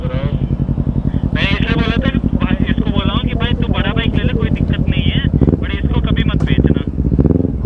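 A Kawasaki Z250 motorcycle engine runs with a steady, smooth throbbing pulse, close and loud, while someone talks over it almost the whole time.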